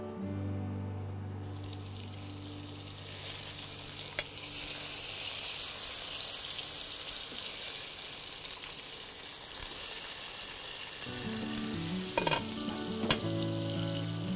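Cauliflower florets frying in a pan for a fish curry, giving a continuous dense sizzle close by with a few spatula scrapes and stirring clinks toward the end.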